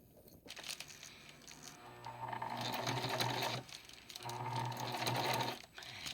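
A sewing machine stitches blackout curtain fabric in two long, steady motor runs, starting after a brief pause and separated by a short stop, close and fairly loud with no talking.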